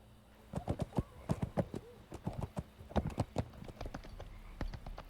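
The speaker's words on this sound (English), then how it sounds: "As my horse, Providence, crested the west ridge" Horse hooves from the video game Splatterhouse clip-clop in a brisk, uneven run of sharp strikes as the horse crests a ridge at nightfall, close and fairly loud, with no talking.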